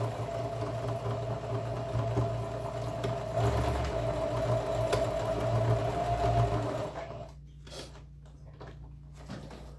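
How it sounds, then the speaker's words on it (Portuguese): A sewing machine stitches a shoulder bag in a fast, continuous mechanical whir with rapid needle rhythm, then stops, leaving a few light handling clicks and knocks near the end, with no talking. "Centralizo e faço uma costura de segurança, começando pelo meio."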